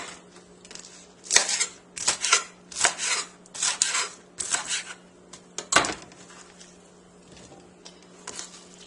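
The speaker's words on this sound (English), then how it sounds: "And then I'll cut these into 1-inch pieces as well." A knife chops vegetables into one-inch pieces on a cutting board, a quick run of crisp close taps and crunches in short bursts, with no talk.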